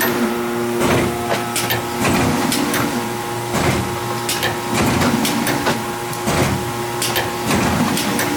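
A gel ice bag filling machine runs with its conveyor motor humming steadily while the fill nozzle cycles, giving repeated clacks and pneumatic thumps at a regular pace, close and loud with no talk.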